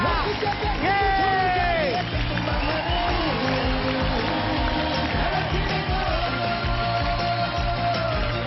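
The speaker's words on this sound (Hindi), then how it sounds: "जोरदार तालियां प्रियंका चोपड़ा के लिए।" Crowd applause and cheering for Priyanka Chopra on a comedy show stage, a loud continuous roar of clapping mixed with music and voices, sustained throughout.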